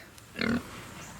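A pet pig grunts once, close and fairly loud, a short burst that stands out against a quiet farmyard backyard near a bantam chicken coop.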